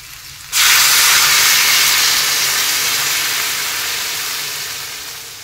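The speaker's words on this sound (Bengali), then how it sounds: "এবার আমি ভালো করে তরকারিটাকে ভেজে নেব" Potato and fish curry hits a hot pan with a sudden loud sizzle that settles into a strong, steady frying hiss, slowly easing over a few seconds, with no voices.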